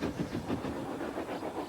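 A steam freight train rolls along rails through the English countryside, a faint, rhythmic rumble with soft pulsing clatter, steady and somewhat distant with no voices.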